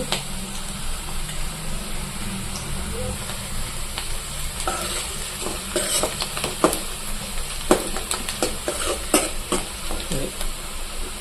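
Onions sizzling in hot oil while frying for a chicken curry, a dense continuous crackle with occasional sharper pops and stirring scrapes, close and steady with no talking.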